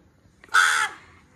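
One loud, rasping caw from a nearby crow in a Konkan coastal village, short and clear against a quiet background.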